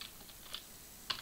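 A few light, sparse keystrokes on a Bluetooth computer keyboard: scattered quiet clicks, with a small cluster near the end, heard faintly at close range.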